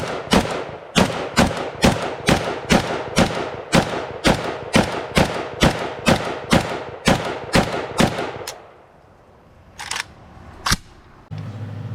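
A Chinese Type 56-2 AK rifle fired at an outdoor range, about sixteen loud, evenly spaced single shots in a steady rhythm, then a pause and a few more scattered distant reports.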